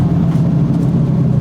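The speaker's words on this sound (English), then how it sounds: "That sound when it downshifts." Drivetrain rumble from a 1967 Camaro as the transmission downshifts, a loud, steady low engine drone heard from inside the car with no talking.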